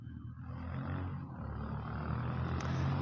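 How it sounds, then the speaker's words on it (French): A motorcycle passes behind in town as a broad, low engine rumble that holds and swells slightly over a few seconds, mid-distance and fairly loud, with no one talking. "Je suis désolé pour le bruit de la moto derrière,"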